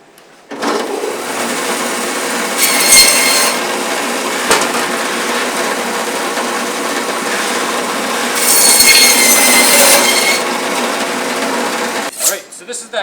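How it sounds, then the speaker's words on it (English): A bandsaw cuts through a beef chuck shank, a loud steady mechanical whine with a grinding edge that starts abruptly, swells twice as the blade bites through, and stops sharply near the end. "I'll just be making a cut on the bandsaw to remove my shank"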